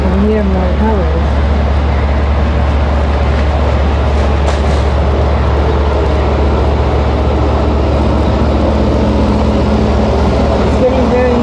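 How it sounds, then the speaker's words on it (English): A loud, steady diesel engine drones throughout, a big lobster boat motor rumbling close by with constant low throbbing, in Chatham. "It's getting very noisy. It's a big lobster boat."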